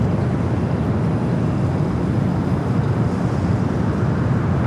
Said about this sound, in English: the Dreamliner now rolling down at 25 right